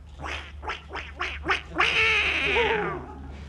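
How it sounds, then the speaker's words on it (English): A wind-up toy duck gives a quick series of five short quacks, then one longer drawn-out quack, close and fairly loud. "I was just winding up one of the ducks."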